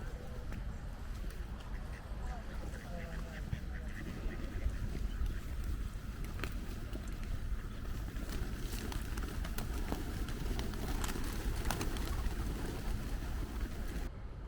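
Park ambience in Bermondsey, London, with pigeons cooing and birds calling and quacking as locals feed them, under a steady outdoor background, with faint voices now and then.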